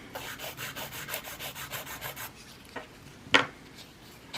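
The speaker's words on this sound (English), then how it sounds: "you're going to do your filing routine" Nail file rubbing along the side wall of a nail enhancement in quick, even strokes, a soft close rasping rhythm, followed by a brief tap.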